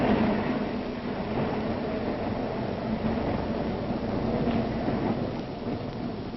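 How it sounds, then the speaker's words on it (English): A New York elevated train rumbles continuously with a steady, muffled roar and clatter, heard on an old, tinny recording. "Ride the elevated train, all the way from the Battery far uptown."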